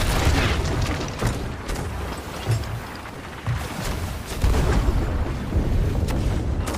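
Ship cannons fire in the pirate video game Sea of Thieves, a steady rumble of deep booms and thuds that keeps rolling through the whole stretch, loud and dense with no talking.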